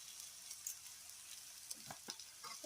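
Cumin seeds frying in a pan for Odia sukto, a quiet, steady sizzle with a few faint crackles and pops, no voices.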